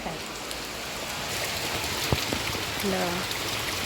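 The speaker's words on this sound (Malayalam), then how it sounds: "ഇവിടെ മഴ പെയ്യുന്നുണ്ട്." Steady rain falls outside a home, a dense, even hiss that holds for the whole stretch with no distinct drops standing out.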